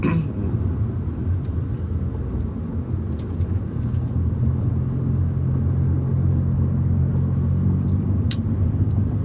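A car driving slowly and gently on the road, with a steady, continuous low engine and road rumble heard from inside, loud and unbroken, with a few faint ticks.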